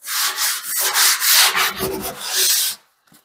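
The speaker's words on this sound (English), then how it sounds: "just gonna go over with a little sandpaper, a little sanding block" Steady scraping strokes of a sanding block with sandpaper rubbing across a laminate countertop, close and fairly loud, repeated back and forth before stopping.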